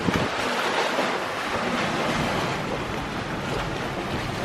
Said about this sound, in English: Wind definitely picked up a little bit.